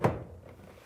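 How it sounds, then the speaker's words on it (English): A Samsung dryer door is set into place during a motor and blower replacement, giving a single close, dull thunk that fades quickly into quiet. "and set the door in place"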